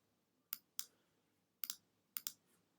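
Crisp computer mouse clicks, quiet and close, come in pairs: a double click, then a lone click, then another quick double, in a silent room.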